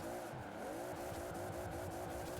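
A tuned 1600 hp Toyota GT86 drifting in the Forza racing game: a loud, continuous high-revving engine roar blended with sustained tire squeal, steady throughout.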